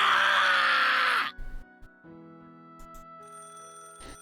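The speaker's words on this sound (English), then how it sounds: "I heard a phone ringing in the teacher's office." A telephone rings in the video game Higurashi with a steady electronic trill over a sustained synthetic tone, after a loud distorted burst at the start.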